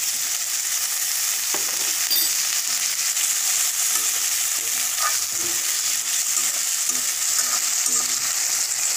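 Bengali-style rui fish curry masala sizzles steadily in a pan after a splash of water is added, a dense, continuous hiss of frying running evenly throughout with no talking.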